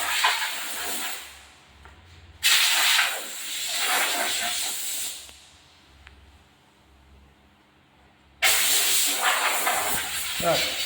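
Wax and grease remover sprayed onto a car body panel during paint prep in a shed, three long hissing bursts with quieter pauses between them, close and loud, with a low background hum.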